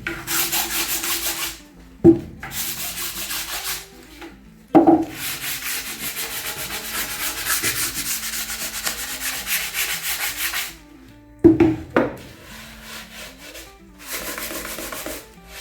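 A wood surface on a lazy susan is sanded by hand with firm pressure, giving long, steady scrubbing strokes that pause briefly between passes and are heard alone.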